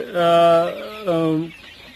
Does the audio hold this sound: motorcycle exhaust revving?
no